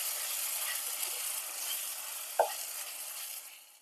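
A Rajasthani garlic and fenugreek curry, cooked until the oil separates, is stirred in a pan with a low steady sizzle, one distinct spoon clink partway through, then fades out.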